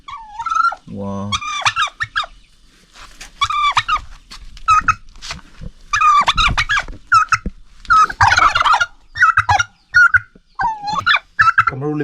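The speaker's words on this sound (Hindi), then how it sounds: "यहाँ पर टर्की इवन टर्की भी रखा हुआ है" Turkeys gobble in repeated loud bursts at a small village farmhouse in Nagaland, with chickens and other fowl clucking nearby and someone talking between the calls.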